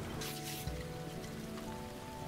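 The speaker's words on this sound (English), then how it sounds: "come on, stop raining" Steady rain patters on a surface in the Hundred Days vineyard game set in Napa Valley, a continuous soft hiss with a faint tonal hum underneath and no voices.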